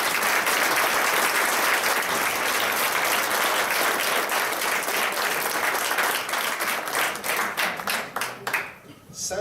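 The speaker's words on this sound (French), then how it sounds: "Un petit coup d'applaudissement, je peux le donner." Loud, dense applause from an audience at a political nomination event in Wickham, Quebec, sustained for several seconds and then thinning into scattered claps as it fades at the end.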